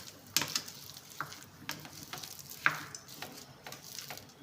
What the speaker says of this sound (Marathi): हा जो तडका आहे बंद करायचा आहे आणि हा यामध्ये सोडायचा आहे।